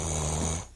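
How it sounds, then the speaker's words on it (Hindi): Cartoon old man snoring in the hot afternoon sun, a steady low rasping snore held loud and close for most of the moment before it trails off. "इतनी तेज धूप में भी कितने आनंद से खर्राटे मार रहे हैं।"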